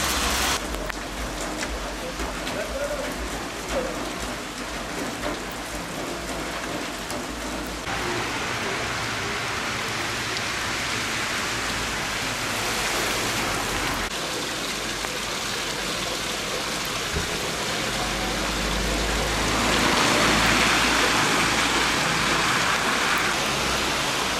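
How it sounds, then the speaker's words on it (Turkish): Heavy rain pours steadily at night in Bayburt during a thunderstorm, a dense, continuous hiss that swells louder toward the end. "Bayburt'ta ne kadar yağmur ya"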